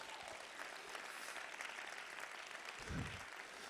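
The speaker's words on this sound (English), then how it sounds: "Somebody give the Lord a hand clap of praise." A church congregation clapping in praise during a sermon, a faint, sustained spread of many hands with a slightly louder swell near the end.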